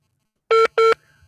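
Telephone line tones as a radio call-in caller is picked up: two short, loud, identical dual-tone beeps in quick succession, followed by a faint lingering line hum.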